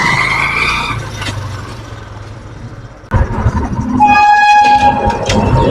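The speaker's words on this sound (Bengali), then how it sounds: "জাস্ট ট্রেন যাচ্ছে।" A coal-loaded train passes through Sagardighi station with a steady heavy rumble and clatter of wagons, then a sharp shift to louder grinding and squealing wheel tones near the end, close and dominant.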